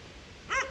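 A single short dog bark, faint and somewhat distant, over a quiet background hiss.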